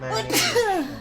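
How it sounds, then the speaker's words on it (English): A single sharp human sneeze bursts out amid chatter among friends, close and loud, with speech and laughter around it. "It's just a sneeze."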